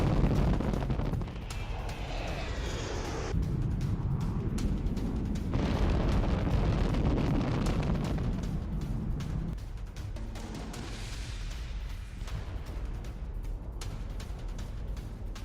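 Airstrike bomb explosions in Yemen rumble as a dense series of heavy, low booms and blasts, continuous and loud throughout with shifting bursts and no speech.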